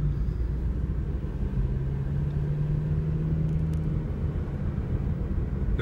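Heard from inside a car driving a road through an area burned by the Tubbs fire, a steady, loud low engine and road rumble runs unbroken throughout, with no talking.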